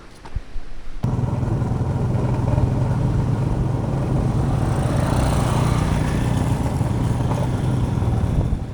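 A motorcycle engine runs at a steady, close drone for most of the stretch as the bike is moved. It starts abruptly after a quiet second and has no speech over it.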